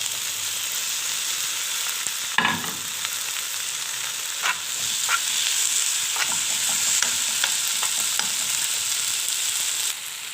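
Onions and potatoes frying in a pan, a soft continuous sizzle with occasional scraping stirs and light clinks, heard alone and fairly quiet.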